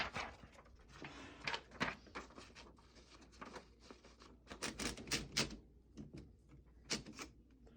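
Sharp mechanical clicks and light metallic rattles come from a paper finger being adjusted on a 1934 Underwood Noiseless desktop typewriter, in irregular close taps with brief quiet gaps and no speech.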